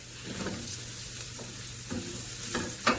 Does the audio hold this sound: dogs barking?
no